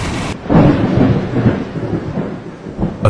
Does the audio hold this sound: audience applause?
no